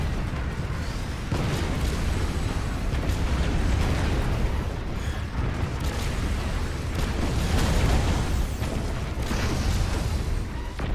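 Missile explosions in the Robocraft video game, a continuous rumbling barrage of booms and bursts with mechanical clatter, dense and steady throughout without a clear break.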